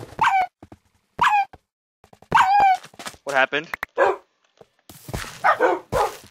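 Minecraft dogs whimper and yip in short, high bursts as one drowns in the game, the cries coming in repeated clusters mixed with people chatting.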